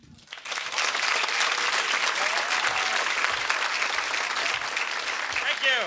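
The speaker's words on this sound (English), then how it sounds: "Keep a nice applause going for Louie" Applause rises quickly from a comedy club crowd and holds steady and full, with a few voices and whoops scattered through the clapping.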